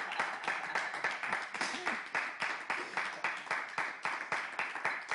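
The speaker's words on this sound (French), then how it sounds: "on va applaudir Badamassi, s'il vous plaît." A crowd claps in steady, rapid applause that continues throughout, fairly even in loudness.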